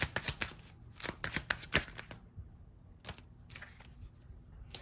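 Tarot cards are shuffled in rapid, crisp riffling bursts, dense and close at first, then thinning into a few sparser flicks and slides.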